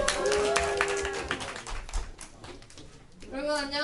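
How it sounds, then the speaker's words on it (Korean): A youth group at a church worship service claps in welcome of a student, a dense burst of applause with voices mixed in that thins out before a speaker begins. "우리 큰 박수로 환영해 주시기 바랍니다"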